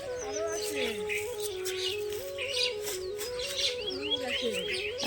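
Many common mynas calling at once on a winter morning in rural Bengal, a busy chorus of chattering squawks and whistles, fairly close, with a faint voice in the mix.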